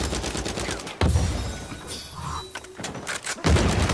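A grenade bursts at the player's feet during a ranked King of the Hill match in Uncharted 4 multiplayer, with sharp blasts and gunfire crackle amid chaotic combat noise, loud and near.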